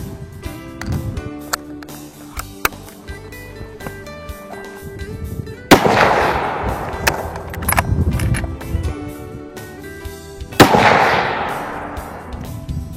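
Two loud, sharp rifle shots, several seconds apart, are fired through bushes at a target. Each crack rings out and decays, with lighter rustling and clicks between them.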